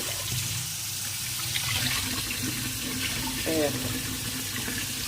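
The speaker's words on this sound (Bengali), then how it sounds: "কলগুলোকে মোটামুটি একটু ধুয়ে রাখি তার জন্য একদম কলের তলাতে" Tap water runs steadily into a sink while bananas are rinsed under the faucet in a home kitchen, a continuous close splashing hiss with faint handling sounds.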